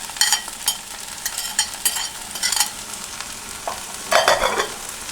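Chopped onion and green chili stir-fried with okra in a hot pan for a Kerala-style vendakka roast, giving a steady sizzle broken by repeated scraping bursts of a spoon stirring, close up, with no talking.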